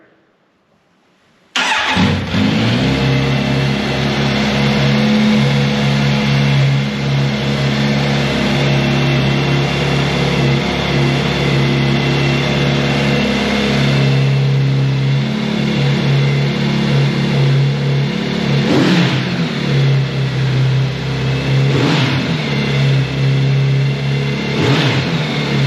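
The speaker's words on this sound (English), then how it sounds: "a quick sound check with a cold start" A 2022 Kawasaki Z900RS motorcycle fires up from cold after sitting overnight. It catches at once and settles into a loud, steady idle, with a few short throttle blips near the end. The engine is close by and no one speaks.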